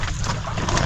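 An electric motor drives a small boat across the water, giving a steady broadband rumble and hiss with a strong low end that holds evenly throughout, up close and without talk.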